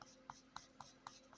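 Coloured pencil barely grazing paper during light shading on a knights-and-dragons colouring page, giving about five faint, evenly spaced scratchy strokes, close and quiet, with no talk.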